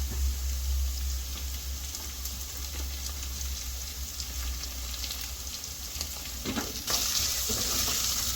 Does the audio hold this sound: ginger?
yes